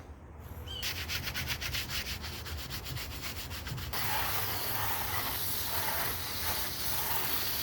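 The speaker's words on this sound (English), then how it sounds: "We need to go ahead and give that another scrub." Steady, close scrubbing of an old plastic car door panel, a dense abrasive rubbing that runs continuously and shifts to a broader, rougher stroke partway through, with no voices.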